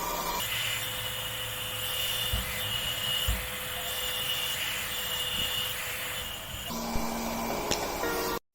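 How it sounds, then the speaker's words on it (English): Steady rushing blow of a hairdryer spreading alcohol ink, running continuously, fairly loud and close, with a brief change in pitch near the end before cutting off. "I'm gonna take a hairdryer and spread the ink."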